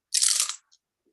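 A bite into a crunchy Passover korech sandwich of matzah with maror, charoset and radish gives one close, dry, brittle crunch lasting about half a second, followed by a tiny faint crackle.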